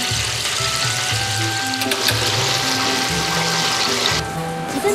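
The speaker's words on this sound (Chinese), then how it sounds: "入锅油炸" Basa fish fillets, soaked in pomelo sauce and rice wine and thinly battered, deep-fry in oil with a constant bubbling sizzle alongside steady background kitchen noise.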